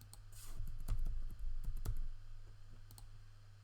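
Several sharp computer mouse clicks, close and fairly loud, scattered irregularly across a quiet room with a low steady hum underneath.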